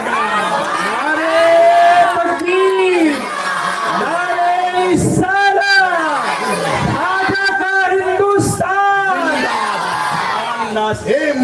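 A large crowd at a religious gathering in Lahore chants back loudly in unison after a slogan call for Nara-e-Takbeer, voices rising and falling in repeated surging shouts that fill the whole stretch.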